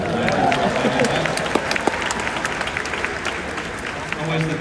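An audience applauds and cheers in a dense, steady patter of clapping with scattered sharper claps, filling the room from start to finish as a voice speaks over it.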